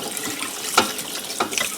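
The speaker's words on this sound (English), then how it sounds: "I'm going to give it one more rinse, this time in cold water." Cold tap water runs over dried pears being rinsed in a sink, a close, steady splashing stream broken by a few louder sloshes as the fruit is moved, with no talking.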